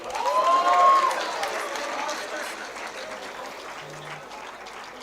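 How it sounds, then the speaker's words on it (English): A convocation ceremony audience applauds steadily, a broad wash of clapping that holds at an even level throughout, with a voice faintly audible over it near the start. "Guys, if I don't hear a clap"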